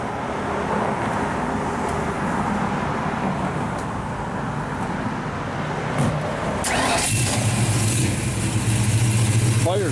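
A 1966 Ford Mustang with a 302 V8 and six-speed Tremec gearbox cranks and fires up partway through, then settles into a steady low idle rumble outdoors, fairly quiet amid background noise.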